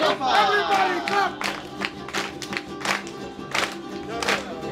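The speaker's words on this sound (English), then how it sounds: "Everybody clap!" Crowd at a Hawaiian gathering clapping in rhythm along to a song, with bursts of whoops and cheers, under singing and a voice calling out.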